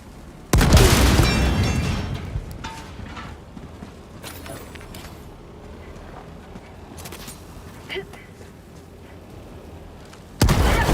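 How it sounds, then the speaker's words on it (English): A grenade going off in a video game: a loud, close boom with a decaying rumble, then quieter clicks and small pops, and a second sharp blast right at the end. "Throwing grenade!"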